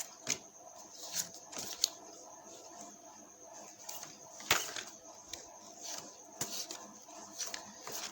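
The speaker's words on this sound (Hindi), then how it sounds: "तो ब्लू फ्लावर के निकालते हैं 5 कार्ड्स।" Tarot cards are drawn one by one from a deck, giving sharp papery snaps and slides spaced irregularly over a quiet room background, close and fairly faint.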